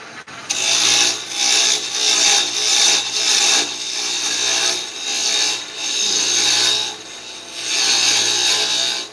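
A wooden Christmas ornament spins on a lathe while a tool cuts and scrapes it, giving a loud, steady rasping hiss that swells and fades in repeated passes with no talking.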